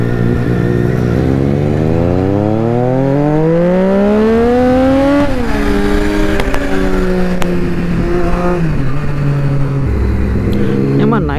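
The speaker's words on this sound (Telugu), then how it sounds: "మన బండి అయితే చాలా లౌడ్ ఉంది అనుకోండి." A loud Kawasaki ZX6R sport motorcycle ridden through late-night traffic revs hard up through the gears, its close, piercing engine note climbing and dropping with each shift, without any talking.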